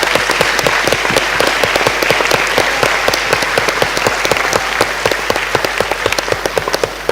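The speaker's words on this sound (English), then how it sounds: "give a big applause to Professor Huang for this lecture" University lecture audience at Seoul National University gives sustained applause for a professor, a loud, even wash of many hands clapping with sharp individual claps standing out throughout.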